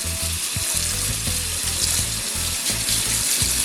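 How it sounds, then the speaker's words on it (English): Beets and carrots scrubbed with a fruit scrubber under a running tap, a constant rush of water with rhythmic bursts of scrubbing and splashing throughout, close and fairly loud. "fruit scrubber to wash these beets and carrots"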